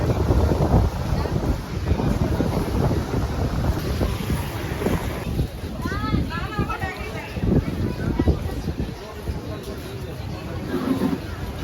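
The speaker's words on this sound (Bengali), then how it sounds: "এত সুন্দর হাওয়া, ঠান্ডা।" Cool sea breeze on Mandarmani beach at night: loud, continuous gusts buffet the microphone over the wash of waves, while people talk nearby throughout.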